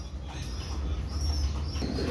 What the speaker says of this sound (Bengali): ভিউয়ার্স, এক জোড়া কবুতর দেখেন